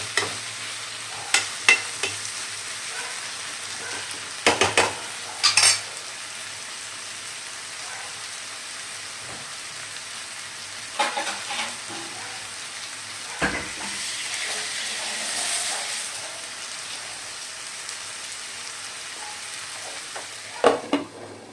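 Squid, nearly a kilo of it, frying in a pan for a Kerala-style koonthal roast, with steady soft sizzling broken by several sharp clattering bursts of stirring; no one speaks.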